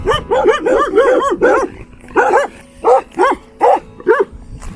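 Loud, close barking from a group of five or six dogs: a rapid flurry of barks, then a short pause, then several more spaced barks in a steady rhythm.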